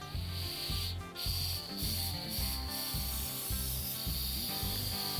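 Compressed air hisses from a leaking turbo pipe joint on a Sprinter van, a constant airy hiss over a steady, rhythmic low engine pulse, heard up close with no voices.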